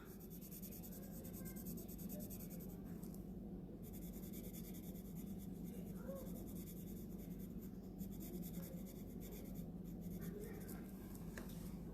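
A basic school pencil shades on paper with continuous soft scratchy strokes, close and quiet, in a steady back-and-forth rhythm with brief pauses.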